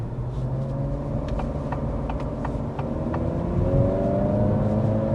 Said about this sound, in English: acceleration feels pretty good, especially when you first take off